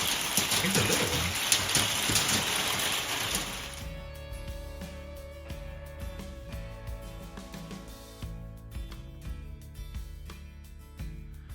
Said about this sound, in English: It's been raining a lot today